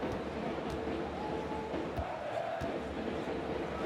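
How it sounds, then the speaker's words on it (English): A muffled crowd chanting in an NBA 2K23 basketball game, a steady murmuring roar with faint rhythmic chant tones and occasional sharp thuds, under a commentator-like voice. "there's some weird muffled, old crowd chants going on"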